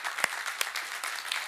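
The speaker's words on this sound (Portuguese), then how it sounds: "E dê o seu melhor aplauso a Deus em nome de Jesus." A small crowd claps with a few sharp, distinct slaps standing out, fairly quiet and brief.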